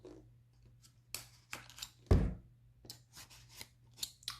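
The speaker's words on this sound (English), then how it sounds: "So let's go ahead and cut the stickers real quick. Let me just cut them." Scissors cutting stickers close up, a series of sharp snips and clicks in an uneven rhythm with one louder thud in the middle.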